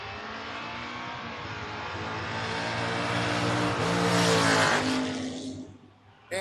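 Door-car drag racers, one a Buick, roar down the strip in a loud sustained engine blast that builds and rises in pitch, peaks, then drops away abruptly near the end.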